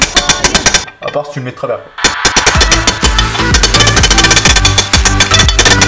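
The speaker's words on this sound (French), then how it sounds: "vous prenez une douille de la taille et vous tapez" A gearbox bearing being hammered into a motorcycle engine case through a socket, rapid loud metallic strikes in a steady repeating rhythm, a brief pause near the start, and someone speaking over the hammering.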